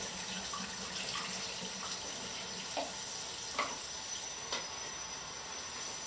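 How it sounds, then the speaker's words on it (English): Tap water running and splashing into a film developing tank during E6 development: a faint, steady hiss of flowing water with a few soft knocks and clinks, no voices. "And fill it up with water"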